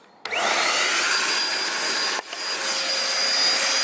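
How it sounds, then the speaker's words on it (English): Inside a Peugeot 308 GTi, the heater fan kicks on at maximum speed with a sudden steady rushing roar of air, briefly dipping and surging again midway, loud and close with no voices. "I'm gonna turn the heat on maximum, so we got nice warm air. That's going on top. And airspeed on max."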